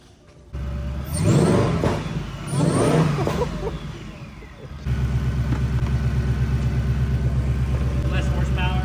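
A Ford Bronco engine cranks and fires at a shop after an install, revving twice with loud roars before settling into a steady rumbling idle close by, with excited voices over it.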